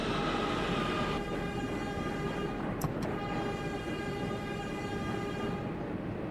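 A simulated train in the OpenBve simulator rumbles along with a steady, droning run, its tonal hum continuous and loud, broken by a couple of brief sharp clicks midway.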